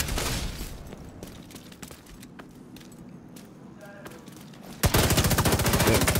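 Rapid automatic gunfire from a Division 2 PvP match, dense bursts throughout with a louder, sustained volley near the end, close and harsh, with a voice speaking in the background.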